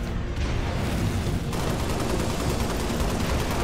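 Rapid, continuous gunfire from a Halo Reach co-op match fills the whole stretch at steady loudness, dense bursts running together with no pauses and no voices.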